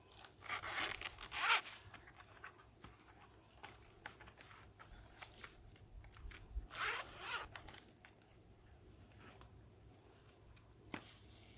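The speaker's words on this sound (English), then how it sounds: "zip it up" A zipper drawn along the fabric case of a SunJack 60 watt foldable ETFE monocrystalline solar panel charger, several short rasping pulls and scrapes outdoors over a steady chorus of crickets.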